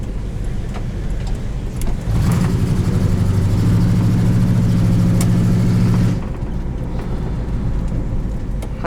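A 1980 Pontiac Firebird Trans Am engine rumbles steadily, then revs into a deep, throaty roar for several seconds before settling back to a lower drone, loud and close.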